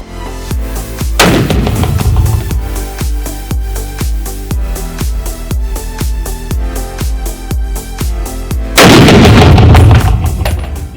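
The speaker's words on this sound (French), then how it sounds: "c'est un ciné-tir à balles réelles, donc dans lequel vous pouvez tirer avec votre arme, avec des munitions réelles" Rifle shots with live ammunition in an indoor cinema-style shooting range, a rapid regular series of loud sharp cracks with reverberant tails, plus two heavier, longer bursts near the start and end.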